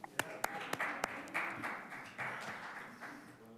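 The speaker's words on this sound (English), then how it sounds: "You can clap, I don't mind." Scattered applause from attendees at a city council meeting after a motion carries, a few sharp claps at first, then a steadier patter of clapping in a fairly quiet room.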